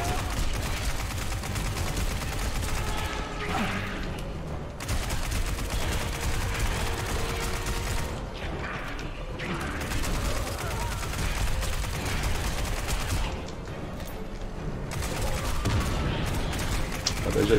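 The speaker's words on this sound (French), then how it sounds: "On va sortir l'artillerie là." Sustained heavy gunfire in the zombie shooter game Annie Last Hope, a dense, continuous roar of rapid shots with short pauses between long bursts, loud and close, with no talk over it.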